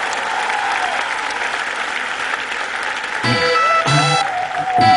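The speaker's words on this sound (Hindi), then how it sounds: "आइए तालियों के साथ स्वागत करते हैं खोटे सिक्के की स्टार कास्ट" Audience applause at the C I D Gallantry Awards welcoming the star cast of Khote Sikke: loud, continuous clapping, joined partway through by a musical sting with tonal notes over the crowd.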